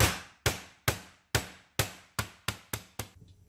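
Nine sharp, hard thwacks in a steady rhythm, each a heavy blow crushing lemongrass stalks on a cutting board, closely spaced and loud.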